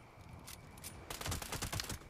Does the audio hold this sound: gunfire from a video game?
yes